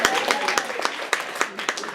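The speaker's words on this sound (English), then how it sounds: "For those who did not clap" A small comedy club audience gives a short burst of scattered, thin clapping, a few hands slapping close together over about two seconds while a speaker talks.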